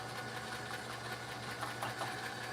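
A sewing machine running steadily while stitching puppet fabric, a continuous close mechanical whir with a low rhythmic hum and no pauses or voices.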